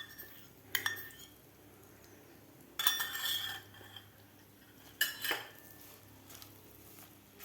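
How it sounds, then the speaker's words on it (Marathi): A spatula presses and scrapes flour roasting in ghee in a pan, giving three short bursts of metallic scraping and clinking against a quiet background. "असं दाबून दाबून पीठ भाजायचं आहे आपल्याला"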